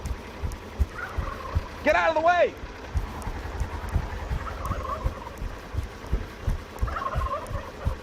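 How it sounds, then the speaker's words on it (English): Turkeys gobble once in a rapid, warbling burst at mid distance, with a shouted voice nearby and steady background chatter and rumble throughout. "damn turkeys are on the way"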